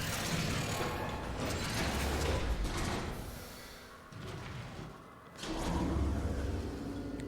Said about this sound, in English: An elevator.